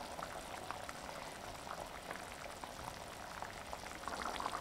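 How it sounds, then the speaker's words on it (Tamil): Egg curry with boiled eggs simmers in a pot, giving a soft, steady bubbling and popping that continues on its own at low volume. "இப்போ வேக வச்ச முட்டையை சேர்த்து ஒரு 5 நிமிஷம் கொதிக்க வச்சுட்டு இறக்கி வச்சா சரியாக இருக்கும்."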